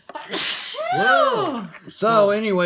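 A person gives a single loud sneeze, with a sharp burst and a wavering vocal tail, then people talk.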